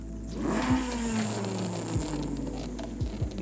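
A 2000 Nissan Silvia Spec-R with a racing exhaust in the game Forza Horizon 5 revs hard, pitch climbing then dropping, followed by sharp repeated throttle blips with crackling pops near the end.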